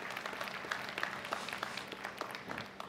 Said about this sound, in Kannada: ಅವರಿಗೆ ಒಂದು ಸಲ ಜೋರಾದ ಚಪ್ಪಾಳೆ ಮೂಲಕ ಎಲ್ಲರೂ ಹುಟ್ಟಹಬ್ಬದ ಶುಭಾಶಯಗಳನ್ನು ತಿಳಿಸೋಣ